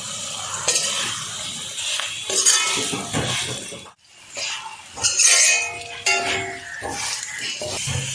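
Fried mussels are stirred into cooked masala in a pan for Kerala mussel pickle: a spoon scrapes and clinks against the pan in uneven strokes over a soft sizzle, close up.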